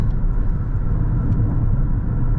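Lexus NX350h hybrid cabin at highway cruise around 1400 rpm: a steady, loud low rumble of road and engine noise with no change in pitch and no one speaking.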